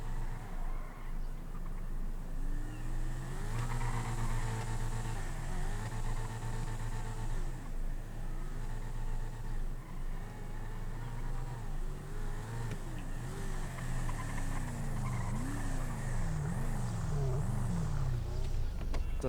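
Car engine in GTA 5 revving and shifting through gears, rising and falling pitch sweeps over steady road noise, loud and continuous throughout.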